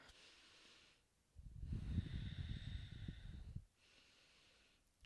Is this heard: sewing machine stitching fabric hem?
no